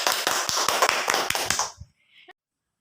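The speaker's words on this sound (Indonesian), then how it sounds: "Kita beri tepuk tangan." Classroom applause for student groups after their presentations in a micro-teaching lesson: several quick, scattered claps and taps for under two seconds, close and fairly loud, then a faint clatter and silence.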